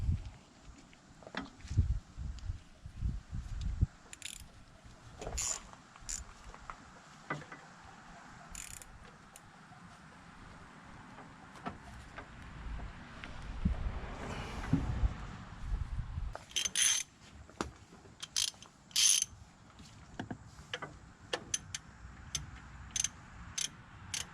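A ratchet clicks in short bursts while loosening 14 mm alternator bolts on a Nissan Rogue, with sharp metallic ticks separated by pauses and some rustling and handling noise, close but fairly quiet.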